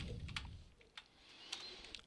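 A name being typed on a computer keyboard: a handful of sharp, separate keystroke clicks spaced irregularly over a couple of seconds, close but fairly quiet, with no voices.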